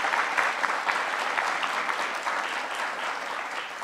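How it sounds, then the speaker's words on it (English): Audience applause at a First Lady's event at a youth center, a dense, steady wash of many hands clapping throughout, loud and sustained with no voices on top. "So let's give them a round of applause and a warm welcome."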